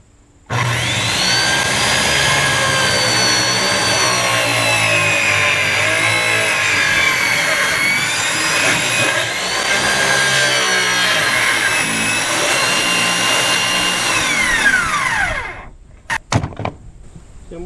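A power saw rips lengthwise through a board, a loud, steady whine with harmonic tone holding for about fifteen seconds before the blade spins down, followed by a couple of short clatters.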